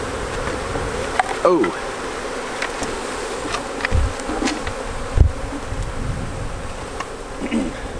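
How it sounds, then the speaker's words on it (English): A dense, loud swarm of bees drones continuously close around a beekeeper raising queen bees, with a brief exclamation from a person and a few sharp knocks and rustles. "There are bees flying all around me right now, guys"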